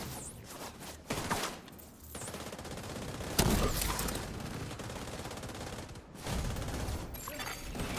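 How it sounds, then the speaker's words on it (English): Dense bursts of rapid gunfire with distant booms in The Division video game, rattling continuously and loudly over a few seconds, with no one speaking. "I hear gunfire."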